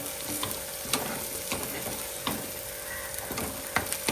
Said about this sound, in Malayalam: ഉള്ളി നന്നായിട്ട് ഒന്ന് വഴണ്ട് വന്നിട്ടുണ്ട്